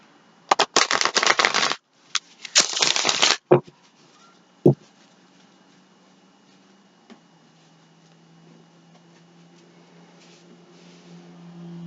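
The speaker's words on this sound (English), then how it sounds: "One more shuffle." A tarot deck is shuffled in two quick, crisp riffling bursts, each lasting about a second, with a couple of sharp card taps afterward before the room falls quiet.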